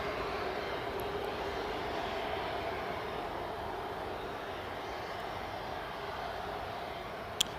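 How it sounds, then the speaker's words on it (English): A Cessna 406 twin-turboprop lands on runway 25 at Newcastle Airport, a steady distant engine roar holding for several seconds with no talk over it. "we've got the Cessna 406 Golf Romeo Victor Lima Yankee just landing on runway 25 now"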